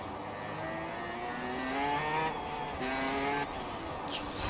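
Race car engine droning and climbing in pitch under acceleration, heard from inside the cabin, a steady loud roar with rising harmonics and a brief whoosh near the end.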